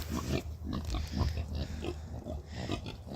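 Several pigs grunt and oink close by in a farm setting, a steady jumble of short snorts and low grunts over a low rumbling background, with no talk.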